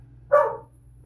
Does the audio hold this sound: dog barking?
yes